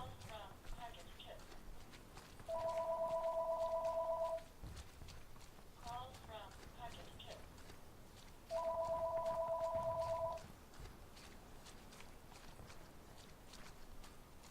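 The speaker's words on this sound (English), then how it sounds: "It's my friend Kip calling me on the phone." A phone rings twice in a video game, each a steady electronic trill lasting about two seconds, over game sound that includes clip-clopping hoof or footstep noise and someone talking throughout.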